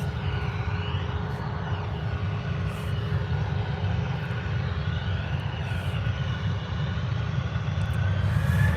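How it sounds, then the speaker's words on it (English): Jet2 Airbus A321 landing at Birmingham airport at night, a steady broad engine roar with a low rumble that holds evenly and swells slightly toward the end, heard alone without voices. "We got Jet2 A321 touching back"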